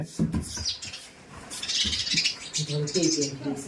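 Sparrows chirp and twitter in quick bursts nearby, with a person's voice speaking over the chatter at times.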